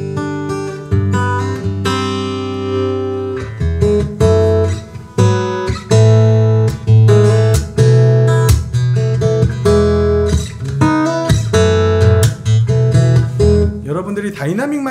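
An acoustic guitar captured through a dynamic microphone plays a lively strummed and picked passage, loud and close, with crisp attacks and ringing chords throughout.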